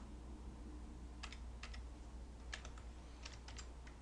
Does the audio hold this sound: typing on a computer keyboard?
yes